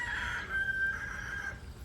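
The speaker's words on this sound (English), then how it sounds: "I also now have 2 crowing roosters, so enjoy that in the background." A rooster crows once in the distance from a garden, a drawn-out call over a low background rumble.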